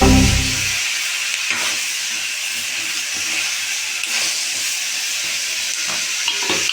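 Food stirred and frying in a pot during traditional Sri Lankan home cooking: a steady loud sizzle and hiss throughout, with faint scraping stirs underneath, no talk.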